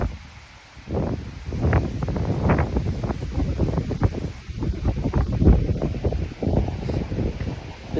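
Wind blowing through trees and brushing leaves together outdoors, gusty rustling that swells and fades in bursts, with microphone wind buffeting.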